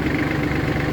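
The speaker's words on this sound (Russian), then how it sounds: "реверсом запускаем трактор вперед" An ISEKI GEAS27 mini tractor engine runs steadily with a low, even mechanical rumble, close and continuous with no talking.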